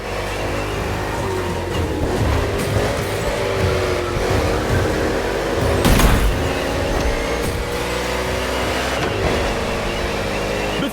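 NASCAR race cars thundering through an urban street circuit in Honolulu, Hawaii, in The Crew Motorfest, engines droning loud and steady with a brief louder pass near the middle and faint tire squeal.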